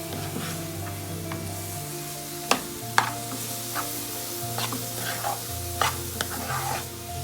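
Grated radish fries in about a tablespoon of cooking oil for mooli paratha, with a steady close sizzle and sharp clacks of a spoon stirring against the pan, and no talking.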